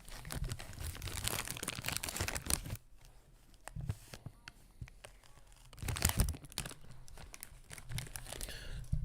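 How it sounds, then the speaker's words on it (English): Crunchy snack chips being chewed and a chip bag crinkling and rustling, loud and close, in bursts with a quieter stretch in between. "Sorry if the crunching of chips or opening of the bag was loud."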